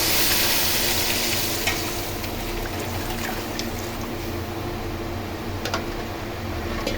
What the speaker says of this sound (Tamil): இந்த நேரத்தில் நம்ம கரைச்சி வச்சிருக்கோம்ல புளி, அதை எடுத்து அப்படியே ஊற்றிட வேண்டியதான்